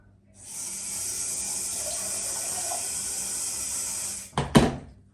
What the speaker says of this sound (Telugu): వాటర్ ఫుల్ అయింది పోసేద్దాం